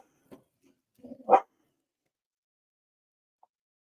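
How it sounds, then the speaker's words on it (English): Dog gives a couple of short, moderately close barks with a small yip between them, then quiet, in a mostly silent room. "What are you barking at?"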